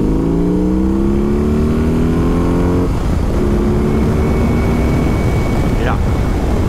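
A BMW R18 cruiser motorcycle accelerates hard in second gear in Rock mode, its loud boxer engine rising steadily in pitch, dropping briefly at a shift, then climbing again, with wind noise throughout.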